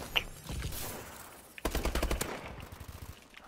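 Gunfire in a team deathmatch shooter video game, a short burst of loud rapid shots, a brief gap, then a longer volley of close automatic fire.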